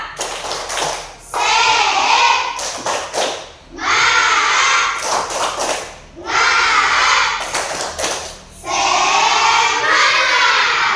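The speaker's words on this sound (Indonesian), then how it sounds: "Sekali lagi, tepuk semangat." A classroom of children performs a rhythmic spirit clap in repeated bursts, each sequence of sharp, fast claps and thumps alternating with loud chanting voices, close and energetic, with brief pauses between rounds.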